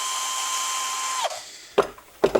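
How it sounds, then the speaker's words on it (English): A high-pitched drill with a small grinding bit whines steadily, then winds down; two short, harsh grinding bursts follow as the bit bites into a rubber bung. "Drilling rubber, bad idea, don't try that."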